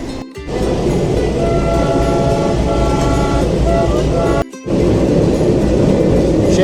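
A Darjeeling Himalayan Railway toy train at Siliguri Junction rumbles loudly and steadily as it departs, with two brief drops in the noise and a faint tonal hint of a horn partway through.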